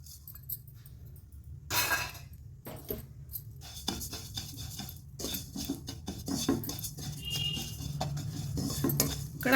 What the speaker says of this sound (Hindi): अब मैं अजवाइन डाल रही हूँ।